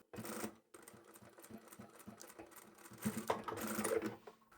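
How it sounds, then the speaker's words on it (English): A sewing machine stitches straight across the boxed corners of a small fabric pocket tissue holder, giving short bursts of rapid mechanical whirring that stop and restart, close and fairly quiet with no voices. "Let's go back to the machine one more time and we'll box those corners."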